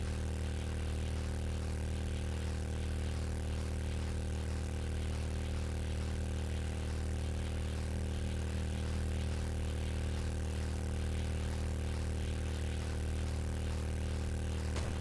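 Motorbike engine in the survival game 7 Days to Die, a steady droning hum held at even volume throughout, with no voices.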